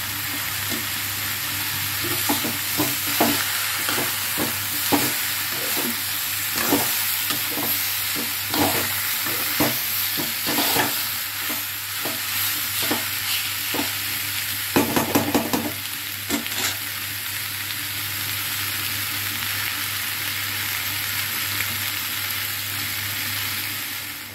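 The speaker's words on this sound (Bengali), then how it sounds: "এবার আমি চিংড়ি মাছ দিয়ে দিলাম।" Prawns sizzle steadily in a hot pan while a spatula stirs them in repeated scraping strokes, with a denser burst of stirring partway through; close and fairly loud, no talk.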